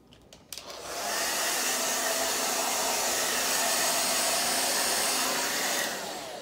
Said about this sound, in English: I'm gonna try to blow dry her ears and her under furnishings here